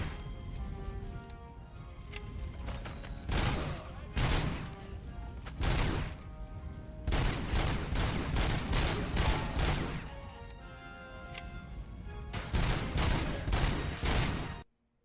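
Pistol gunfire in the Ludeo video game, a rapid series of sharp, loud shots in clustered bursts with short pauses between volleys, ending abruptly.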